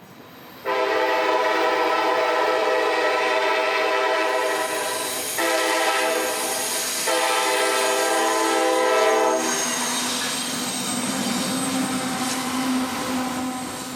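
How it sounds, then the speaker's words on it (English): A CSX freight train, B488, rolls west along the Chattanooga subdivision, its horn blaring in long sustained blasts with short breaks, then giving way to the loud, steady rumble and clatter of the passing cars. "train B488 cruises west towards Bridgeport"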